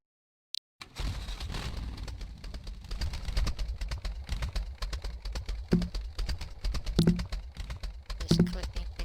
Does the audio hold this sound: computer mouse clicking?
yes